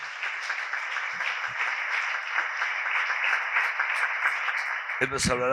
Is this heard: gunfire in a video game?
no